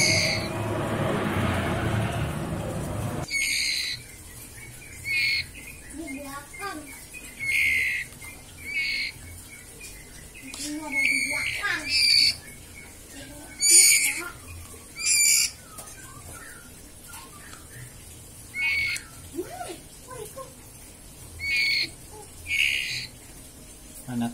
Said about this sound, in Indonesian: Anakan murai batu umur 2 minggu kurang.